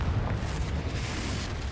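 A Confringo explosion spell cast in Hogwarts Legacy on PS5 bursts as a loud, dense, roaring blast that holds steady for nearly two seconds, with no voices.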